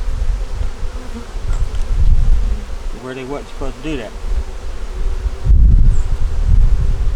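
Honeybees buzz steadily around a backyard beehive in cooling autumn weather, a close insect drone carrying on throughout with brief rustling, while someone speaks for a few seconds in the middle.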